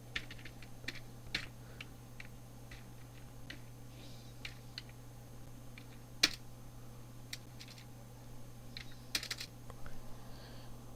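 Keys tap on a computer keyboard during HTML and CSS coding, quiet irregular clicks in scattered bursts over a low steady electrical hum.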